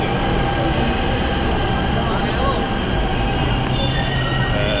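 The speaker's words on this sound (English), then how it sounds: "So this is how the Indian metro looks like." Delhi metro train standing in a station, a steady loud rumble of rail car and motor noise with faint high wheel squeal throughout.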